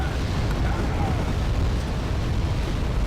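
Artillery shells from Malka self-propelled guns land in Wargame AirLand Battle, a dense continuous rumble of overlapping blasts with no distinct single bangs, loud and steady throughout.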